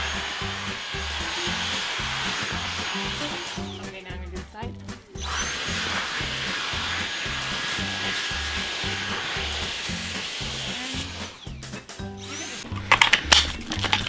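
A vacuum cleaner fitted with a brush tool runs steadily and close up while cleaning the seams and crevices of a crib mattress, its drone briefly dropping and bumping as the tool shifts, with a clatter near the end.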